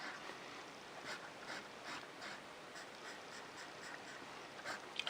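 A Conway Stewart 77 fountain pen with a slightly flexible nib scratches softly across paper in a quiet rhythmic series of short strokes, close up and alone.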